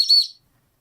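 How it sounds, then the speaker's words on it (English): A Tesla Cyberwhistle gives one short, thin, high-pitched toot lasting under half a second, close and fairly loud, then silence. "The cyber whistle"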